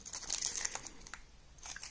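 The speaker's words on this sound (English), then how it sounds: "Now let me unwrap this." Faint crinkling and rustling of packaging as an Upright Go 2 posture corrector is unwrapped, soft and close with irregular small crackles and no talking.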